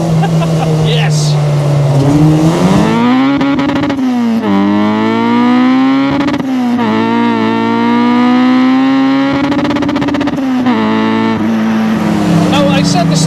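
A K20-swapped Honda Civic EG hatchback engine revs hard and loud, its raspy note climbing and falling repeatedly through the gears while driving, with people talking over it.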